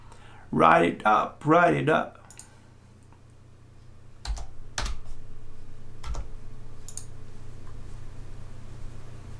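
A brief stretch of talking gives way to a few sparse, sharp keystroke clicks on a computer keyboard over a faint steady background hum.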